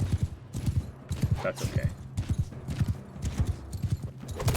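Cavalry hoofbeats thunder in a charge in the video game Mount and Blade Bannerlord, a dense, rolling clatter of many hooves with battle noise, and someone speaks briefly over it.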